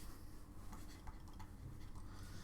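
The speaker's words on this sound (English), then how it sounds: "I'll write it over here." A marker or chalk moves on a board during a math lesson, giving faint scratchy strokes in short irregular bursts over a low room hum, with no talk.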